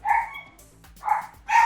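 Dogs barking nearby, three loud, distinct barks spaced about half a second apart, with a faint hum underneath and no talk.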